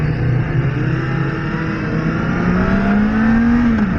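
The 399 cc engine of a Kawasaki Ninja ZX-4RR revs up close and loud while the bike stands still. The engine note climbs and holds in one sustained, rising whine.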